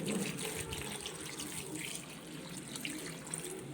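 Water pours steadily into a pot for one-pot sambar rice, a continuous rushing stream that stays fairly loud and even throughout, with no talking over it.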